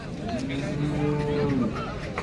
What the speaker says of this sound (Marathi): पाहू शकता जर्सी ब्रीडची गाय आहे